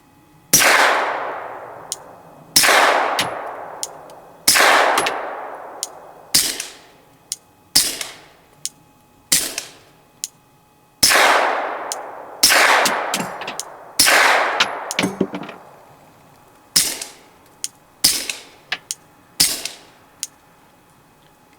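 Suppressed Glock 17 firing supersonic 115-grain rounds through a Silencer Co. Osprey suppressor: about fourteen sharp, loud reports with ringing decays, spaced irregularly, some in quick pairs, with no voices.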